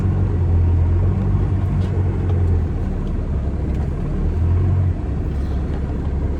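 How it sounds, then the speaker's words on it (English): A small black car drives slowly in through a gate, a steady close engine rumble with low droning tones that eases slightly toward the end. "Keep going, little black car,"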